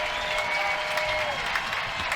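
Spectators at a Tennessee men's college baseball game against Florida cheer and clap in a steady, loud roar, with a faint whistle-like tone briefly riding over the crowd noise.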